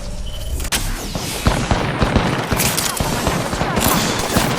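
Gunfire in the video game Apex Legends, a continuous dense fusillade of sharp shots and impacts near and far, firing throughout without pause, with no talk over it.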